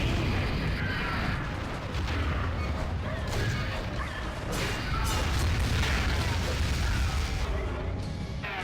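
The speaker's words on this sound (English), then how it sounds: "Is that like a locked on missile?" A locked-on missile explodes in Godzilla Unleashed on the Wii, a dense rumbling boom with crackling debris rolling on for several seconds, loud and continuous under the game's clamor.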